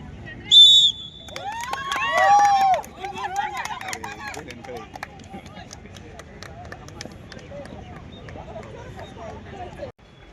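Sharp whistle blasts ring out at a sports meet in a stadium, first a short high toot, then a warbling trill over a murmuring crowd and scattered voices.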